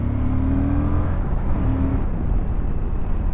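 Steady road noise and engine whir of a car overtaking a motorcycle on an open road, a continuous close roar with slight swells in pitch and no clear voices.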